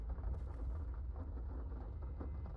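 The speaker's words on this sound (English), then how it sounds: "Rain droplets, great, cool." Rain droplets pattering on the cockpit of a Mirage 2000 flight simulator during a circle-to-land approach at Akrotiri, Cyprus: a steady, soft hiss of rain over a low cockpit rumble, with no talking.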